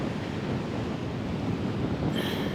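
Ocean surf washes onto a beach in Oman in a constant, loud roar of breaking water, buffeted by wind noise on the microphone throughout, with no voices.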